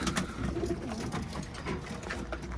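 Hungry pet birds, likely pigeons or doves, coo and call steadily and fairly close over a constant background hiss, with no pause through the stretch.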